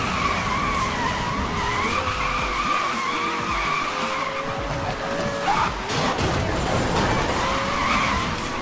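A car drifting in the video game Need for Speed Most Wanted, tyres skidding and squealing continuously over a roaring, revving engine, loud and close with no talk.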